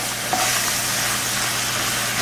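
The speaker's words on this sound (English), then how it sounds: "So I'm frying this" Hamburger meat sizzles and crackles steadily in a hot pan, a continuous close frying hiss with a brief scrape partway through.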